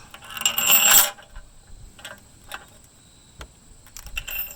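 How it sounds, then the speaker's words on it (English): Metal washers set onto a bolt for a roof basket traction board mount, giving a bright metallic clatter at the start, then a few faint light clinks spaced apart. "I'm going to put the washers on so we just can't pull"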